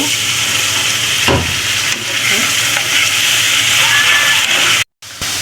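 A pan sizzles loudly and continuously as a little water hits hot oil and spices cooking for chicken curry, with stirring scrapes, and it cuts off abruptly near the end.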